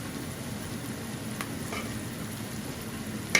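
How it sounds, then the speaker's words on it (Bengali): Chicken spice masala frying in a pan gives a steady, close sizzle with a few faint stirring scrapes and no talking. "তো চিকেনের মশলাটা ভালো করে কষা নিও"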